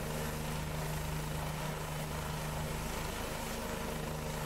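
A helicopter in the X-Plane flight simulator drones steadily with a constant rotor and engine hum, even and unbroken throughout.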